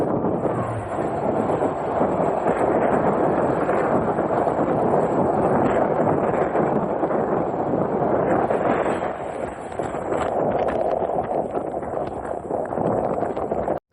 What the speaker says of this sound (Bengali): সামনে থেকে আসছে ঢাকা থেকে ছেড়ে আসা চট্টগ্রাম অভিমুখী বাংলাদেশের প্রথম বিরতিহীন ট্রেন নন-স্টপ সুবর্ণ এক্সপ্রেস